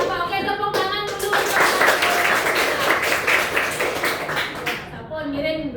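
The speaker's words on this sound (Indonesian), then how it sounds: "Oke, tepuk tangan dulu." A group of children clap their hands together in a classroom, a dense burst of many small overlapping claps lasting several seconds at close range, with a teacher's voice speaking just before and after.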